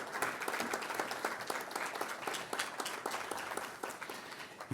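Lecture audience applauding steadily at a cultural foundation's annual lecture, dense sustained clapping throughout with no voices on top.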